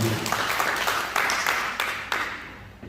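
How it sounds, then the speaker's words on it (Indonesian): A church congregation at a Sunday worship service applauds, with scattered claps arriving in uneven bursts over a roomy background, moderately loud and fairly close. "Beri tepuk tangan dulu yang meriah buat Tuhan."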